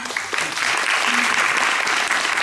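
Musical theatre audience claps at a Korean curtain call, dense and loud throughout, a brief continuous burst with a few voices faintly mixed in.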